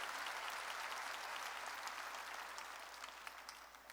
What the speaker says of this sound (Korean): 박수로 하나님께 영광 돌리세요.